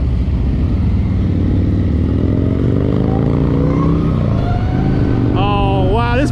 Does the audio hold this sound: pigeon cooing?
no